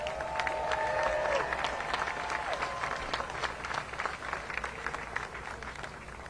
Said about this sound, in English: Let's give a round of applause for Reverend Dr. Gerald Durley